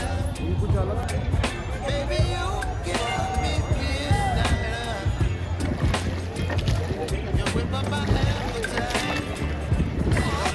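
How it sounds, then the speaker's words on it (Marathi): A boat moving on the water at Triveni Sangam during the Mahakumbh, a low steady engine hum with splashing and sloshing water throughout, with people talking over it. "बोट तो चल रही है"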